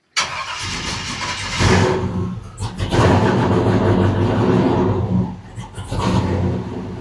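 A Chevy Apache short bed truck engine cranks on a cold morning, loud and close, with repeated starter churning bursts that briefly catch and rumble, then falter and crank again.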